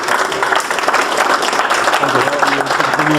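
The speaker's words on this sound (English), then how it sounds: "give them a big round of applause" An audience at a seminar session gives a big round of applause, dense steady clapping filling the space with a voice faintly mixed in.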